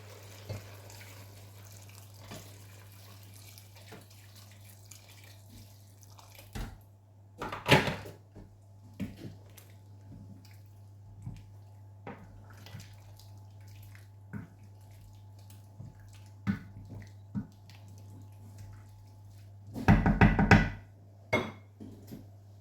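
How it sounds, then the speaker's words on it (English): Boiled water poured into a pot of Nigerian assorted meat pepper soup comes as two short splashing bursts, separated by quiet kitchen clatter and a low steady hum. "At this point, I'm going to be adding my boiled water."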